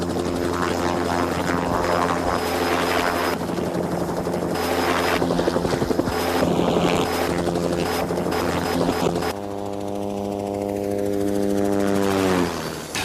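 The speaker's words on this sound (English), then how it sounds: "This is the machine I fly, a helicopter." A Washington Army National Guard helicopter runs with its rotor spinning, a loud, close, steady beating roar with engine whine that shifts and winds down in pitch toward the end.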